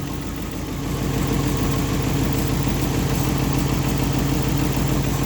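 A 1960 Ford Galaxie Starliner with its 292 Y-block V8 idles steadily after a cold start, a loud, close, even low rumble that swells slightly after the first second and holds with no talking.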